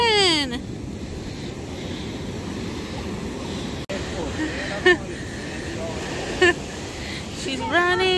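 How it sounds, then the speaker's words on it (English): Continuous broadband wash of ocean surf along the shore at Crescent City, fairly loud with wind buffeting the microphone, while voices and a few high calls rise briefly above it. "Look, waves, ocean."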